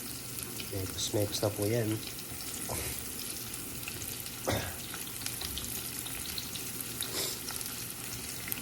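Onion sizzling and frying in a hot pan, with crackling bursts and a few stirring clatters while someone talks over the cooking.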